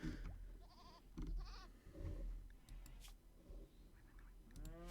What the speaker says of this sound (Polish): O Jezus, przestraszyłem się, bo ta koza do zabicia generalnie była.